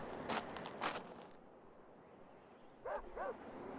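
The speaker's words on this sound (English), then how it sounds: "I hear a dog." A dog in the Cabela's Big Game Hunter 2005 game barks out on lush tundra plains, a pair of quick barks followed by two more after a pause, moderately distant over a quiet ambient background with no talking.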